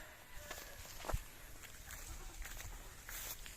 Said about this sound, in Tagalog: ito naman yung kambing natin